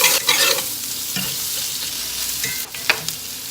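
Sausage and flour are cooked together in a pan for gravy, giving a loud, close, continuous sizzle with a few scraping stirs of a utensil and no voices.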